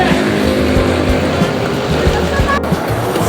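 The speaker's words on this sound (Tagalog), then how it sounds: "nakasakay na kami sa jeep" A jeepney engine runs with a steady, loud, rumbling idle as passengers board, with voices faintly mixed in.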